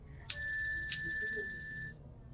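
A faint, steady electronic find-device alert tone from a Fire-Boltt Ninja Call Pro Plus smartwatch rings for about a second and a half, with a couple of soft clicks near its start, over a quiet room background.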